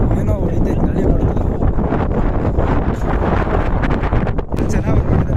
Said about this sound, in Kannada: ಏನೋ ಹೊಡಿತೈತೆ ಗಾಳಿ ಬರ್ತಾ.